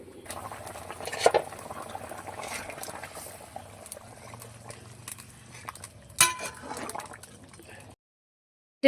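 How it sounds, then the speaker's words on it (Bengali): Red curry with puti fish simmers in a pot, a steady low bubbling and patter running throughout, with a few sharp clinks of utensils against the pot and a brief louder rattle near the end. "ঝোলে জাল উঠে গেছে"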